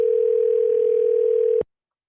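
A steady single-pitch telephone tone after dialing a number, loud and continuous for about a second and a half before cutting off abruptly into silence.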